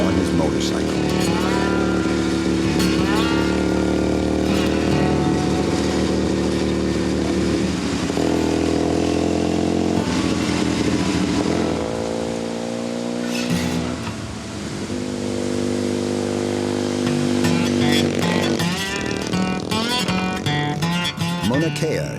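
A motorcycle climbs the road up Mauna Kea, its engine droning loud and steady with shifting revs, pitch rising and falling through gear changes, dipping briefly midway before pulling strongly again.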